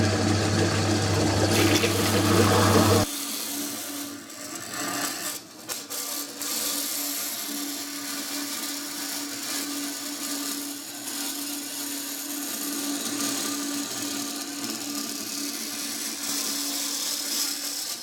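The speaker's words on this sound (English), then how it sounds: "Righto, so we'll just drill through with our 6mm" A power drill bores 6mm holes for a metal lathe belt guard, starting with a brief loud burst and then whirring steadily and continuously for a long stretch, close by.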